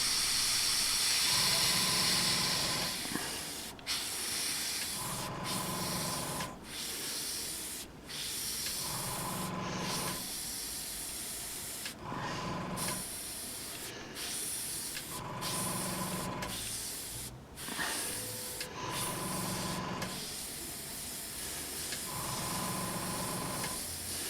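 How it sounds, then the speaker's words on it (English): A Harder & Steenbeck Infinity CR Plus airbrush hissing in repeated bursts of spraying, each lasting a second or two with brief pauses between, loud and close. "I'm able to spray out of the Infinity CR Plus"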